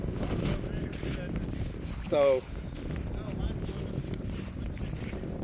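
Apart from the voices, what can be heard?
strong wind blowing into microphone outdoors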